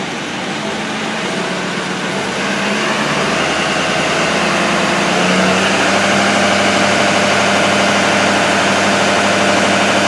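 A Ford 6.7 Powerstroke diesel, running with low boost and its EGR locked closed, climbs from idle to about 1500 RPM, its loud, steady drone rising and thickening over a few seconds and then holding.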